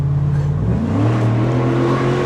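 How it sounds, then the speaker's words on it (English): A Chevrolet SSR convertible truck's engine revs hard, pitch climbing and holding high in a loud, steady roar close by. "just loves to rev their car for the sake of it"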